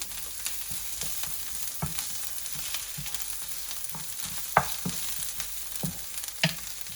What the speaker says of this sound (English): you need to stir the onion with the ginger garlic paste at least for 5 minutes